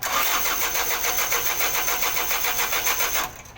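A diesel engine with a suspected solenoid valve fault cranks steadily for about three seconds without catching, the starter's rhythmic churning loud and close, then cuts off abruptly.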